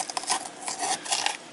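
A spoon scrapes the inside of a bell pepper, a series of close, soft scratchy rasps and light clinks in quick uneven strokes, with no voices.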